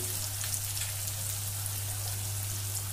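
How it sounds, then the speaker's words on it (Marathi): Finely chopped capsicum sautéing in a pan for chapati noodles, a soft continuous sizzle and crackle with faint popping over a low steady hum, no talking. "एक बारीक चिरलेली ढोबळी आपण परतून घेऊयात।"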